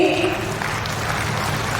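Audience applause fills a government ceremony hall where home guard appointment letters are being handed out, a dense steady clatter of clapping mixed with some voices.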